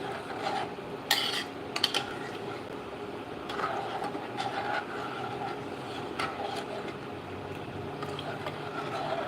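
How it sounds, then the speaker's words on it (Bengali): Flattened rice (chira) is stirred in a pan at home. A close, continuous dry rasping and scraping rolls on with a loose rhythm, broken by a few sharper knocks of the spoon against the metal, and no one speaks. "চিড়ে নিলাম দিয়ে দিলাম এবারে আবার একটু নাড়া নাড়িয়ে নেবো এটাকে"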